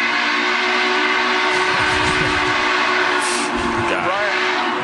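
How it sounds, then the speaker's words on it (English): Union Pacific 844 steam locomotive blowing a long, loud whistle over a constant deep rumble and hiss of the engine, with someone speaking beneath it. "Just letting a little steam off again."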